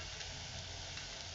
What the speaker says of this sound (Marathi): मटकी आणि तांदूळ मी छान परतून घेते